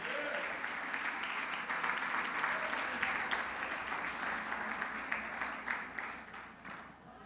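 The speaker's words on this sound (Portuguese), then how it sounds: "Só que recebe aplauso em nome do Senhor Jesus." A church congregation gives sustained, fairly distant applause at a steady level, tapering slightly toward the end.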